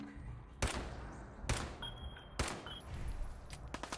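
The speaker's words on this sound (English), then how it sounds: "Somebody up here is shooting at us" Enemy gunfire in Fallout 4 cracks out in three sharp, fairly distant shots spaced about a second apart, with faint clatter and a few smaller pops trailing after them.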